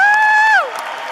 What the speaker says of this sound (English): please give each and every member of our road crew a huge round of applause